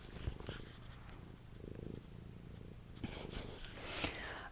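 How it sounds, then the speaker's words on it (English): A cat purrs softly and continuously close by, with a few brief rustles and small bumps toward the end. "Get a little purr."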